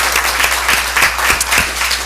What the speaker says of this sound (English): we'll give him a round of applause as well for his hard work